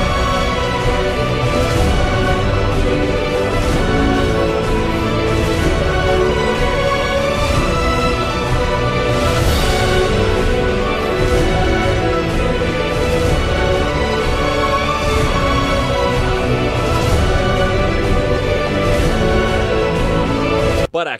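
Dense, continuous electronic music from an instrument device in the video game Warframe plays loudly and without pause, a busy layered mix that stops abruptly at the end.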